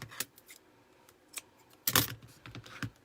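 Scissors snip through burlap for a flower wreath, a few sharp close cuts with a louder crunching bite near the middle, spaced by quiet pauses.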